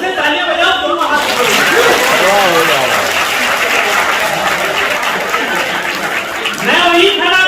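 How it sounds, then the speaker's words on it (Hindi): Audience applause at a local gathering, a steady wash of many hands clapping throughout, mixed with crowd chatter and voices talking over it. "तालियां बजाओ, दोनों हाथ।"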